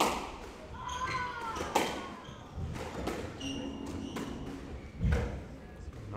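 Squash balls thud off racquets and walls in a women's PSA final at the Northland Open, with hollow hits spaced through the rally under crowd murmur and commentary.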